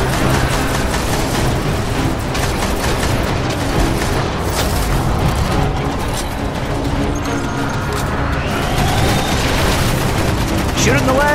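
Dense, loud gunfire in a Destiny firefight, continuous automatic shots and booming impacts packed tightly together, with voices shouting over the barrage.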